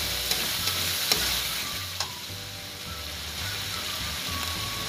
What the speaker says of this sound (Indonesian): Kita kacau. Lepas tu kita tumis sekejap.